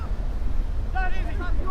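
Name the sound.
wind blowing at outdoor football match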